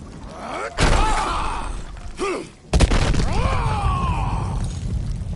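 A large structure toppling and crashing down in the video game Marvel's Guardians of the Galaxy: sharp loud impacts and rumbling collapse, with creaking, groaning mechanical whines in between, all fairly loud and close.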